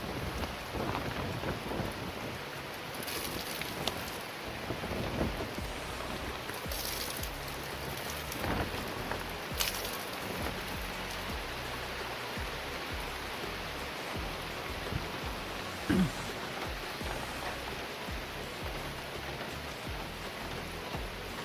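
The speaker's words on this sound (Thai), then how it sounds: "ปีนี้ฝนตกเยอะเหลือเกินครับ" Steady rain falls on a cattle farm for a long stretch, a constant hiss of drops on surfaces with occasional louder splashes and a faint low rumble.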